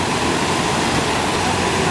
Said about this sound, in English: I didn't know that there's going to be water spraying underneath